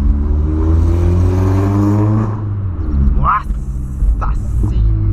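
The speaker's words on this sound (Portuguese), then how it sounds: "só vocês estando dentro do carro pra vocês verem como que tá o ronco" A VW Polo with a straight-through exhaust rumbles loudly at idle with a steady low drone, then gives a couple of sharp revs. People talk over the engine.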